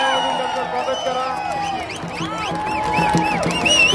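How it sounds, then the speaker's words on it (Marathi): A crowd at the Dahi Handi festival in Kharadi, Pune, cheers and whoops in a steady, loud wash, with whistles, scattered claps and a voice talking through it. "चला सर्वांनी टाळ्या वाजून त्यांचं स्वागत करा."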